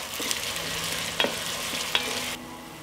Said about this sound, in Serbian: Dodat ću i beli luk i sve ću propržiti dok luk ne omekša